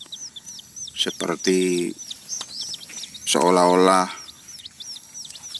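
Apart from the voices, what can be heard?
red junglefowl chicks chirping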